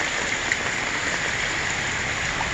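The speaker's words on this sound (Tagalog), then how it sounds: "Overflow na nga di dapit sa tulay." Floodwater spills over beside a bridge in San Miguel, a steady, broad rushing wash of water that holds constant and fairly loud with no voices.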